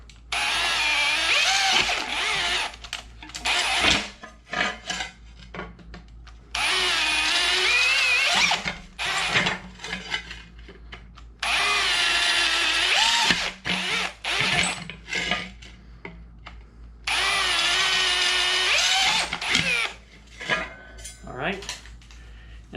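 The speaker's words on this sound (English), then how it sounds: "So I'm just going to drill these out a little bit bigger." A power drill whines in four long bursts, enlarging holes in aluminum, separated by short pauses with clinks and handling noises.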